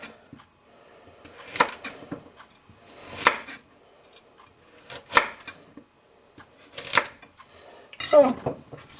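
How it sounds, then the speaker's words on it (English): Yamashin Funayuki White #1 165 mm knife slicing carrots on a cutting board: five spaced, crisp chops, each a sharp crunch ending in a knock on the board, with quiet gaps between them. "It goes to the carrots real easy."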